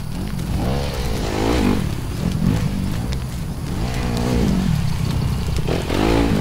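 A motorcycle being ridden gives a continuous, fairly close engine drone that rises and falls as the rider accelerates, with wind rumble underneath and no speech.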